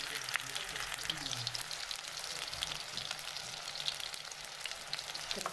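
Green chillies coated in besan and curd fry in hot oil with a steady, fairly quiet crackling sizzle and occasional low bubbling.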